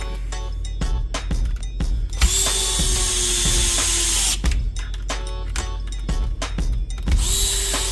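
Plastic motor mount on an M2C 8107 RC monster truck being tightened with a power driver, giving several bursts of close, whirring, ratcheting drill noise separated by brief pauses, with no talking.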